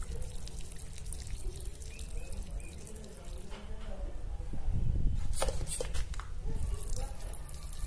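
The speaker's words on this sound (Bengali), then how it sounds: "তাই আমি ভালো করে গাছটিতে জল দিয়ে দিচ্ছি" Water pours steadily onto a freshly planted potted chrysanthemum cutting, a continuous splashing gush that swells louder partway through, with faint talk beneath.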